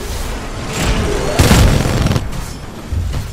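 Gunfire and booming impacts from the video game Titanfall 2, a dense burst of rapid shots and explosions with a loud crack midway, loud and close.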